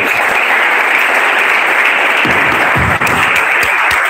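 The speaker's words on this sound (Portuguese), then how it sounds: "Vamos aplaudir o Senhor Jesus." A church congregation applauds in praise at the close of a sermon, dense steady clapping filling the room loudly and evenly throughout.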